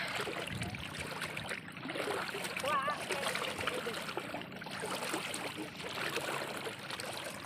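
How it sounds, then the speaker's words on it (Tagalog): Feet slosh and splash through shallow seawater near mangroves. The splashing is continuous and irregular, heard under faint voices. "Uy, may tubig dito."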